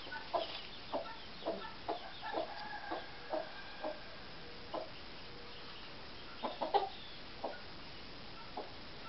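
Patience, a protective mother hen with her chicks, gives a string of soft, short clucks spaced a second or so apart, with a brief quicker cluster near the end, fairly quiet against the background.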